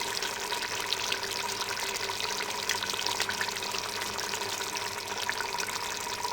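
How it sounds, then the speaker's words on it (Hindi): Cooking oil, one cup, pouring into mutton in a pot for dhaba-style mutton palak, a steady liquid hiss and sizzle at moderate level with no talk. "अब मटन में हम कुकिंग ऑयल डाल देंगे 1 कप"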